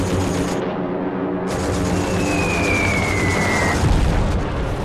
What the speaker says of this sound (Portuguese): Uma bomba japonesa explode perto demais da equipe de filmagem